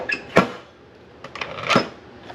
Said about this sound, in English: Okay, we're gonna put the lid on.